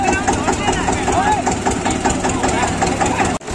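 An Eicher 242 tractor engine runs hard and loud at a tractor tug-of-war contest, with a steady dense roar and harmonic whine, while crowd shouting and voices carry over it throughout.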